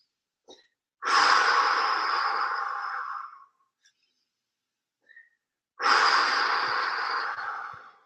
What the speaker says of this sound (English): Make those breaths vocal, kind of breathe it out, strong.